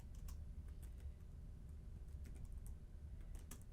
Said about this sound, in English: For property name, we'll go ahead and type Marvin Robotics